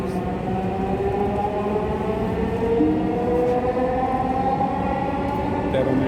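Metro train on the Dhaka line, heard from inside a carriage as it pulls away from the platform toward Uttara North, with a steady loud rumble and rising motor whine held throughout and no clear talk.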